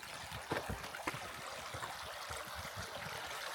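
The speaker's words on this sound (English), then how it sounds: "So that's the Ledwich Brook, which looks really low" Ledwich Brook running low along a trail near Tenbury Wells, giving a steady soft wash of flowing water with faint trickles and gurgles, fairly quiet and continuous with no talk.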